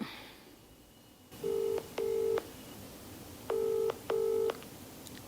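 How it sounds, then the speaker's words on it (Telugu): Four separate telephone keypad tones beep in two pairs at a steady, close level, a number being dialed over a faint line hiss. "కాల్ చేయనా?"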